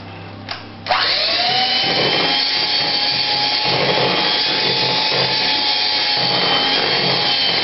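An electric hand mixer whirs through thick, wet scone dough, starting with a brief bump then running as a loud, steady, close drone with a faint tonal whine that holds unchanged to the end.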